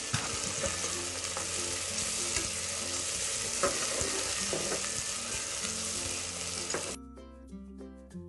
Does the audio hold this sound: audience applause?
no